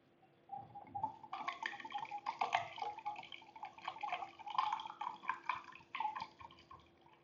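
Water poured into a set of differently shaped tubes gives a continuous soft trickling and gurgling fill, faint and steady over several seconds with a low background hum.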